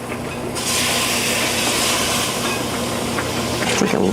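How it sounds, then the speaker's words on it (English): Flour, butter and shallots cook in a pan with a loud, steady sizzling hiss, close by and continuous, with faint scraping toward the end. "you just wanna cook this flour a little bit and these shallots"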